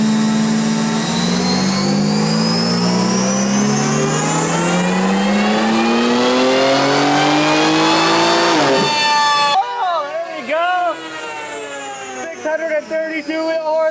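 A tuned BMW running a JB4 map on a dyno revs hard, the engine note climbing steadily through the gears to a loud peak, then cutting off as voices talk over the fading exhaust.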